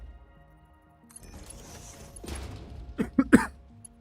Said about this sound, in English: Again, sorry about the coughing.